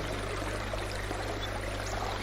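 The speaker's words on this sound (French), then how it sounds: "L'eau qui s'écoule de la cascade coule doucement sur notre tête" Water from a small waterfall spilling steadily at the foot of a rock, a soft continuous pouring and trickling close by, alone with no voices.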